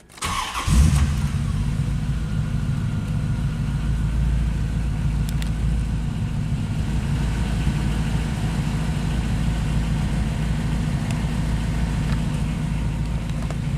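A 1992 Chevrolet Corvette engine cranks and catches with a brief rev, then settles into a deep, steady idle rumble that continues close by without talk.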